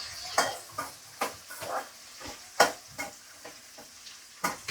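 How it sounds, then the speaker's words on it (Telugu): Green chilli pieces frying in a pan, with a low sizzle under a run of uneven metal-on-pan scrapes and taps from stirring, heard close up. "పచ్చిమిరపకాయలు ఇలా ముక్కలు 2 ముక్కలుగా చేసుకొని వేయించుకుంటున్నానండి"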